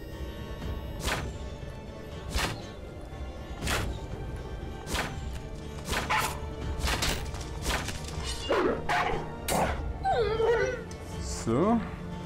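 A dog in the video game Karnage Chronicles whimpers and yips, with sharp bursts of impact or strike sounds at regular intervals and rising whines near the end, all fairly close and loud.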